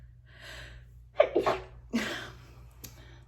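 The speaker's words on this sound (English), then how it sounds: "I feel a sneeze coming on." A sharp gasping inhale followed by a loud sneeze, then a short breathy snort, close to the listener with no speech.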